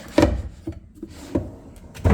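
A few short wooden knocks and scrapes of a drawer sliding open and shut nearby in a resort hotel room, with quiet pauses between them.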